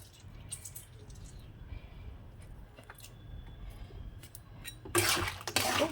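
A spiced cooked dish is stirred in a pan with faint, scattered utensil clinks and scrapes, ending in a louder burst of sizzle and scraping.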